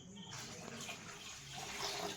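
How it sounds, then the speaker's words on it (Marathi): Water splashes and pours steadily into a container, a continuous rushing wash of sound that swells slightly toward the end. "तर आपण थंड पाणी टाकू याच्यामध्ये"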